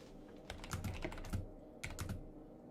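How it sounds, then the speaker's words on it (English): Fingers typing on a computer keyboard in a quiet room, soft rapid key clicks in two short bursts separated by a pause, with no talking. "Do ASMR on the keyboard."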